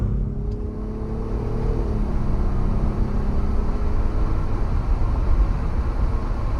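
A 2018 JL Jeep Wrangler with a V6 and 8-speed automatic accelerating, its engine droning steadily with a shifting tone as it gains speed, heard from inside the cabin.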